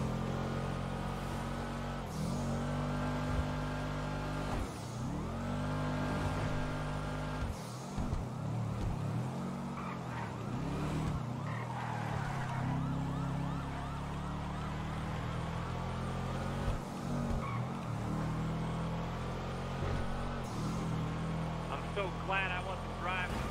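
Car engine of a Subaru during a police chase in a heist video game, droning steadily throughout with wailing police sirens layered over it while several people talk.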